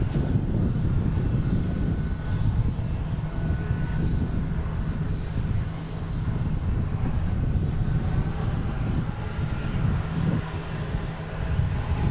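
A British Airways airliner arriving at Boston Logan International Airport on a spring afternoon, its engine roar steady and fairly loud, with a constant low rumble for the whole stretch.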